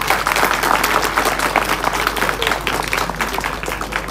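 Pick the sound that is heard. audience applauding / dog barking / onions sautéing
audience applauding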